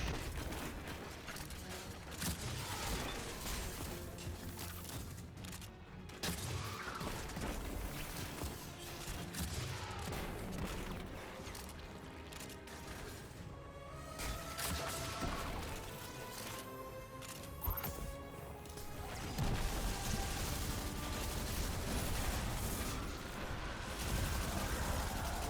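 A grenade launcher fires repeatedly in the sci-fi shooter Destiny, a continuous barrage of thumping launches, crashing explosions and mechanical clatter layered over game music and effects, with no talk.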